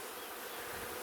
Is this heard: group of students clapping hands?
no